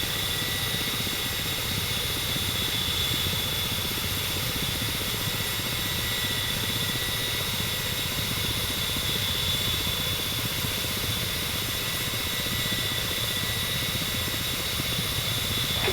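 Ka-50 Black Shark attack helicopter in the DCS flight simulator holding a controlled hover, with a steady, loud engine whine and continuous rotor drone that stay unbroken for the whole stretch, without any talking.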